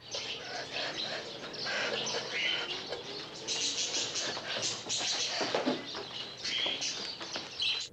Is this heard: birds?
yes